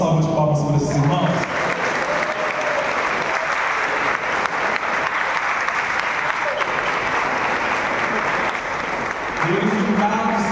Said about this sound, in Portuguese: Vamos dar uma salva de palmas para esses irmãos?